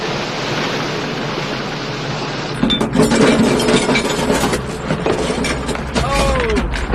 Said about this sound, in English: As the water shallows, the ground swell becomes steeper